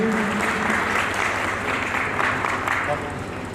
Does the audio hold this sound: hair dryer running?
no